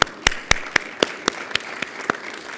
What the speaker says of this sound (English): Can we have another round of applause for the startups that presented?